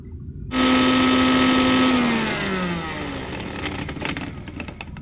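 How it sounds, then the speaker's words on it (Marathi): Mixer grinder grinding cucumber peel chutney with ginger, coriander and salt, starting abruptly with a loud steady whine that holds strong, then eases and pitches down into a rougher churning grind as the blades work through the coarse mixture. "आता हे सगळं मिक्सरला लावून घेऊया।"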